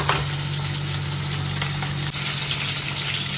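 Carrots for pickle sautéing in a hot pan give a steady, close, loud sizzle, with a brief stirring knock midway and no voices.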